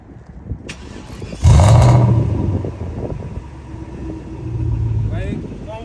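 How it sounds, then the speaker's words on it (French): A BMW 540i E39 V8 with a custom-made exhaust starts up: a short starter crank, then a loud burst as the engine catches, settling into a deep rumbling idle with a brief rev, while voices talk quietly. "Maintenant, on va vous démarrer la voiture. Et vous allez entendre le son, les gars."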